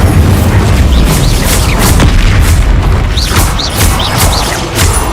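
Incendio fire spell blasts in the game Hogwarts Legacy, loud booming bursts in quick succession over a dense, rumbling battle bed, with sharp whooshing flares cutting through.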